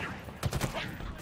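Enemy gunfire in Halo Infinite, a short cluster of several quick shots in the middle of a brief moment, moderately loud over low game ambience.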